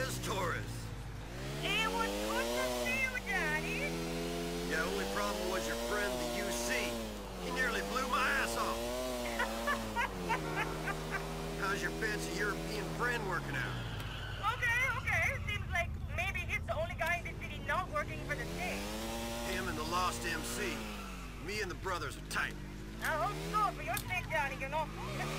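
A Bati motorcycle engine in GTA IV revs up and down in repeated rising and falling sweeps, loud and close throughout, with someone talking over it at times.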